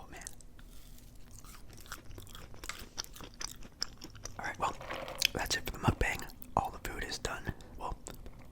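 Close-miked eating of a Panera sandwich and mac and cheese, with soft crunching bites and moist chewing in an irregular rhythm, mixed with quiet whispered talk.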